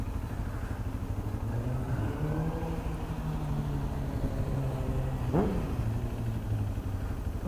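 A Suzuki GSX-R liter sport motorcycle rides past on a downtown Los Angeles street, its engine note rising and sweeping by in a brief pass amid steady traffic rumble and city noise.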